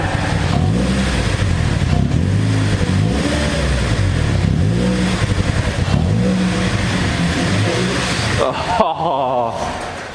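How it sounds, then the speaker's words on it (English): A 2005 Chevy Cobalt engine running on starting fluid revs repeatedly, rising and falling in loud, close sweeps before cutting off abruptly near the end. "give it a rev"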